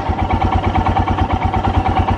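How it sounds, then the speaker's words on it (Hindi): A Royal Enfield Himalayan BS4 motorcycle engine idles close by with a steady, rhythmic single-cylinder thump and a mechanical clatter, loud and unbroken, with no voices. "अब एक बार देखते हैं कि BS4 की स्टार्टिंग कैसी है"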